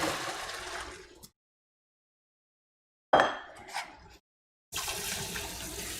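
Cooked macaroni gets rinsed under a running tap, water gushing loudly in bursts separated by stretches of silence, with a brief clatter between, no speech.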